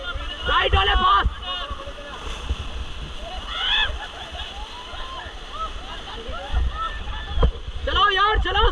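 Paddles slap and splash through churning river rapids during a Rishikesh whitewater raft run, with a steady rush of water throughout and voices shouting over it.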